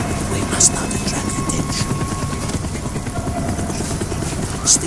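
Helicopter in the Call of Duty Black Ops campaign, a loud continuous rotor thrum and engine drone filling the whole stretch, with voices speaking over it.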